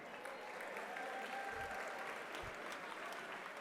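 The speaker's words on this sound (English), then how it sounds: "Give him a round of applause." Audience applause at a Hispanic health professional student scholarship gala in California, a steady, dense wash of clapping that holds evenly throughout, with a couple of soft low thumps.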